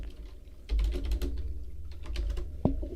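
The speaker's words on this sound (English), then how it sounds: "And I'll just type it in here." Keys are tapped in a quick, irregular patter on a computer keyboard, close by and moderately quiet, with no talking.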